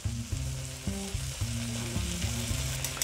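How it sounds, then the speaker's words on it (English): Butter melting in a pan for veal saltimbocca, a loud continuous close sizzle and crackle over a low steady tonal hum, with no voices. "So just melting our butter here."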